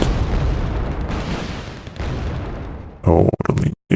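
Deep, rolling explosion rumble from the video game Wargame Red Dragon fills the first few seconds, followed by short bursts mixed with a voice talking.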